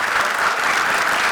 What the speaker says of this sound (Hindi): जोरदार तालियां कृष्णा और सुदेश के लिए।